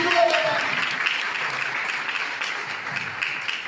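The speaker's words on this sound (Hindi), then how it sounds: "जोरदार ताली दीजिए" An audience at a motivational talk breaks into applause, a dense wash of clapping that fades slightly across a few seconds with a faint voice near the start.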